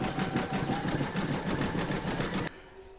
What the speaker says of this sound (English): carry on stitching over the join, the zigzagging over the join